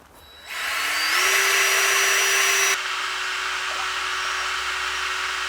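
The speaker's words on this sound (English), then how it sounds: "Paddle mixer just to blend all this lot up together." An electric paddle mixer blending a bucket of mix containing sinking solids, starting up into a steady loud whine with a rising tone, then settling to a slightly lower constant drone, heard alone.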